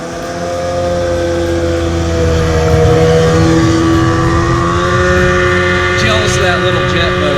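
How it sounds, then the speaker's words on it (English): A loud jet boat engine roars steadily and drones past nearby at night, its pitch shifting as it goes by, with wind and water noise throughout. "Jealous of that little jet boat."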